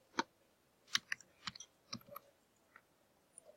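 Numbers typed on a computer keyboard: about eight crisp, close key clicks in an uneven rhythm, fairly faint against a quiet background.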